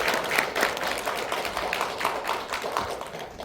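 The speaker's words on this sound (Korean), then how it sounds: "여러분 박수 한번 보내주십시오." Audience applause at the 2024 Korea Internet Journalist Awards ceremony, a dense, steady burst of many hands clapping in a hall that lasts a few seconds with no voices over it.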